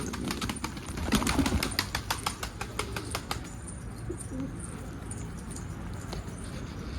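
An escaped pigeon, caught and let go, beats its wings in a quick series of flaps close by, then moves off into quiet outdoor background noise.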